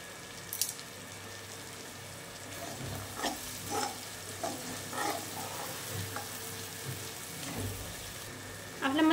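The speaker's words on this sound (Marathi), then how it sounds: "आपला मसाला छान भाजला जात आहे." Spice masala roasting in a pan for sambar, with coriander powder and asafoetida, gives a steady low sizzle and frying crackle. Occasional stirring scrapes and soft clicks of a spoon against the pan recur throughout, up close and moderately quiet.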